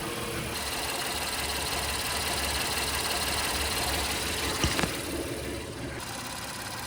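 Steady, smooth idle of a 2025 Honda Odyssey engine after an oil change, with a low continuous rumble and faint mechanical hum, plus a brief clank partway through; no voices.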